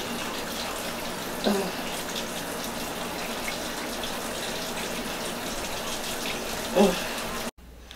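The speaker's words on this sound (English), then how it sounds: "I'm back after washing the deep conditioner out of my hair" Water from a tap running steadily while deep conditioner is rinsed out of curly hair, a continuous close rush that breaks briefly twice and cuts off abruptly near the end, with faint voices in the background.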